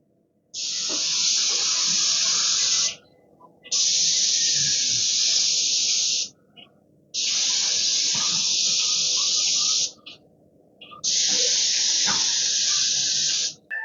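Spray gun applying a paint finish over a wood joint, four long bursts of loud, close hissing, each lasting a couple of seconds and separated by short pauses.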